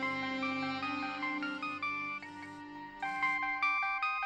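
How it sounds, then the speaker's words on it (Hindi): A mobile phone ringtone plays an electronic melody of clear, bright tones in short repeating phrases, loud and alone with no talk over it. "ठुमरी, मासा का फोन है"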